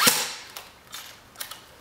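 Airsoft AK47 firing BBs, one sharp snappy shot up front followed by a few quieter clicks and mechanical ticks spaced apart, close and dry.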